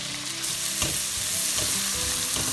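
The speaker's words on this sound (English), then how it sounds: "Fry the onions." Chopped onions frying in melted butter and oil over high flame, a loud close sizzle with crackles and stirring scrapes throughout, no voices.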